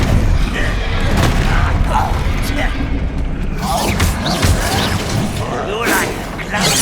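Booming blasts of the Bombarda explosion spell in the video game Hogwarts Legacy, loud and rumbling, with several impacts sounding under a voice.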